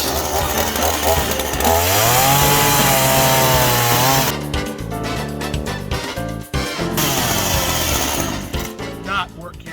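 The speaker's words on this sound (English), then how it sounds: "Men using chainsaws." Chainsaws cut into wood at close range, the engine revving high then shifting pitch as the chain bites, with rough, irregular bursts of cutting and idling.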